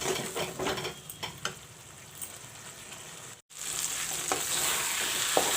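Tomatoes fry in a pan with a soft, steady sizzle, interrupted by a few stirring scrapes and one brief dropout. The sound is quiet and close, with no talking.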